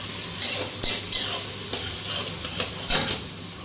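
Chopped onion and green chili sizzle in hot oil in a pan as a spoon stirs, giving off scattered scraping clinks over a steady close frying hiss, with no voices.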